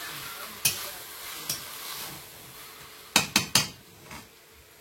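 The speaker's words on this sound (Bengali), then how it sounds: "আলুর ডালের আলুটা ভালো করে কষিয়ে নিতে হবে" A utensil stirs potatoes sautéing in a pan with spices, ginger paste and tomato paste, giving a low sizzle beneath several sharp metallic scrapes and knocks, a few spaced apart and then three in quick succession.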